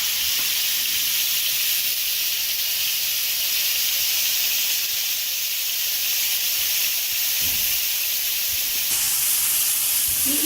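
Chicken tikka boti sizzling on a grill pan over lowered heat, a steady, loud, bright hiss that runs unbroken throughout with no talk.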